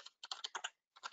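A search query typed on a computer keyboard: a short, quick burst of crisp key clicks, close and quiet, with a brief pause before a final few strokes and no voice.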